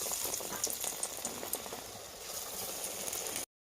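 Oil sizzles and bubbles steadily as eggplant fritters (beguni) fry, a soft continuous crackling with no voices.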